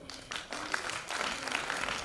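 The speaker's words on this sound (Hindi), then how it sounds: "बहुत बहुत शुक्रिया आपकी तालियों के लिए" An audience at a dancing and singing semi-final stage event applauds with dense, moderately distant clapping that carries steadily for about two seconds.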